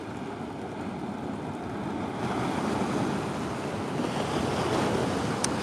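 Ocean surf at Swamis Beach as sets roll in, a continuous washing roar that swells louder midway, mixed with some wind buffeting on the microphone.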